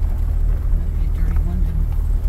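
A car cruises along a road, its low engine and tire rumble steady and close from inside the cabin, with faint voices murmuring beneath it.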